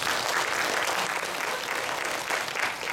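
A church youth group audience applauding steadily for a few seconds during a Sunday service, a dense wash of clapping hands that swells slightly toward the end.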